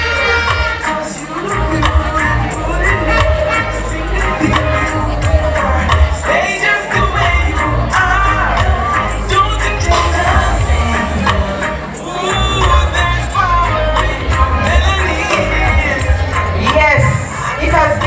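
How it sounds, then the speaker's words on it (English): Crowd of spectators at a Mini Miss St. Thomas Heritage Queen pageant applauding and cheering for the young contestants, steady loud clapping with shouts and whoops over background music, sustained throughout. "A round of applause for them one more time."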